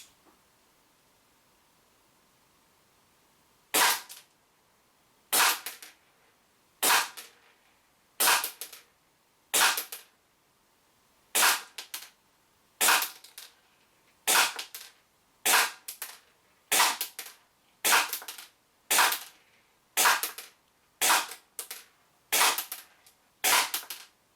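Sixteen sharp shots from a Secutor Rudis 1911 CO2 pistol during a 10 meter firing test, each a crisp loud crack with a short decay, fired at a fairly regular pace of roughly one to two seconds apart.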